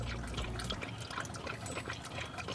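Water splashes and trickles as it is poured out for dogs outdoors in summer, a soft, continuous liquid sound at close range with no talking.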